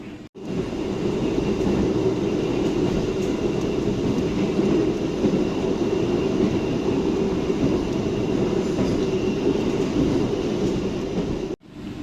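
Passenger train carriage running between stations on the Surabaya to Solo line, a loud continuous rumble and rattle heard from inside the car, steady throughout with brief dips at start and end.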